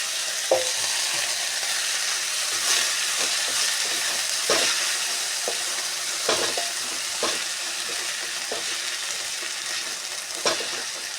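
Garlic and tamarind fry in oil in a pan, a steady close sizzle and hiss with occasional stirring scrapes and small pops, and no voices.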